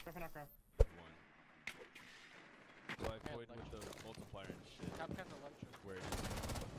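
Desert Eagle pistol fire in a PC first-person shooter, one sharp loud shot followed by a busy run of further game gunfire and effects, with a voice talking over it.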